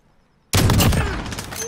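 Gunfire erupts in a Call of Duty fight after a brief hush, a sudden loud fusillade of rapid close shots that rattles on and fades slightly over the next second.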